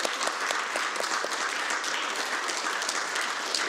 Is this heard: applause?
yes